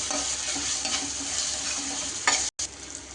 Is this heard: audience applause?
no